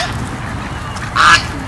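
A goose honks as a sound effect in a nursery rhyme song, one short loud honk over the musical backing.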